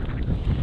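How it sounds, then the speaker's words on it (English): Strong wind by the River Tyne along Hadrian's Wall path buffets the microphone in a steady low roar, dense rumbling gusts filling the short moment without pause. "it's very, very windy"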